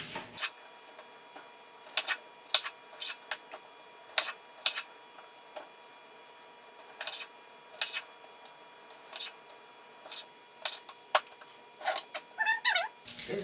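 Tomatoes being cut up with a knife on a cutting board while preparing a mixed meat stew, giving a steady run of sharp, close chopping clicks with short pauses between them, alone without talk.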